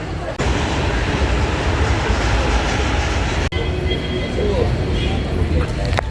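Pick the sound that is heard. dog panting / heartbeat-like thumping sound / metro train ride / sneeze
metro train ride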